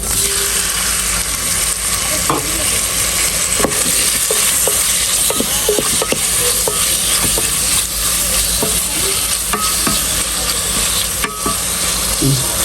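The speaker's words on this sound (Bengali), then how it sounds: "ভাজতে ভাজতে চিকেনটাও ভাজা হয়ে যাক।" Chicken pieces fry in oil in a pan for KFC-style fried chicken, with a loud, constant close sizzle and occasional scraping knocks of stirring. No one speaks.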